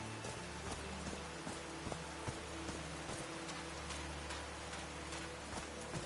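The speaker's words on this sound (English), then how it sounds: "These drops of rain are so refreshing." Rain falls steadily in the video game Call of the Sea, a soft, faint, even patter with scattered single drops ticking against surfaces.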